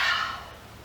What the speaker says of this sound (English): I'm going to exhale through the mouth, so it will sound like this.